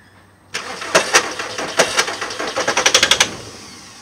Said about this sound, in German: Der hört sich aber nagelig an.